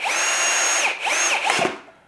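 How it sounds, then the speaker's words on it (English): A power drill drives a screw into a wash station, its motor whining steadily and loud up close, briefly easing off and revving again before winding down. "So I'm gonna use a drill today."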